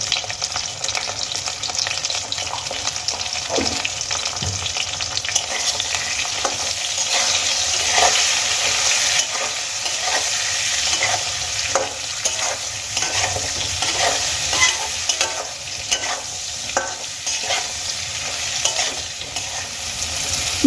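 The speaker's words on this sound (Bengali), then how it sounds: "নুন আর হলুদ বেগুনের সাথে খুব ভালো করে দেখো আমি মিশিয়ে নিয়েছি" Eggplant pieces mixed with salt and turmeric are stirred in a hot pan for a hilsa oil-jhal dish. A loud, steady sizzle runs throughout, with frequent scraping stirs and no voices.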